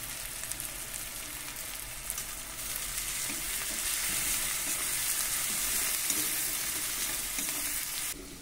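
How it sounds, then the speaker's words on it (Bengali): Onions fry with salt and turmeric in a pan for Bengali egg curry, giving a steady, close sizzle with stirring scrapes that swells a little midway and continues without pause. "পেঁয়াজ আমি ভালো করে একটু ভেজে নেব।"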